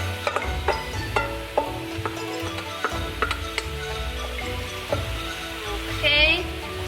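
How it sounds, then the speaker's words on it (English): Beef and egg mixture for homemade fried dumplings stirred and sizzling in a pan, with scattered utensil clicks and scrapes over a steady low fry. "we're gonna go ahead and add our beef egg mix now into our pan and mix it all together now"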